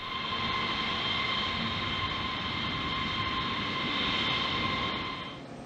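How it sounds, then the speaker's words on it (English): Boeing 747 jet roaring steadily during a rejected takeoff test, a loud continuous engine roar with high whining tones holding throughout before cutting off abruptly near the end. "One of the most extreme tests Boeing has ever subjected a 747 to is known as a rejected takeoff."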